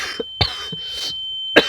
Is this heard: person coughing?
yes